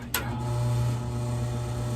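A lock stitch machine with a horn, set up for stitching riding boots, runs with a steady, close motor hum after a brief click at the start.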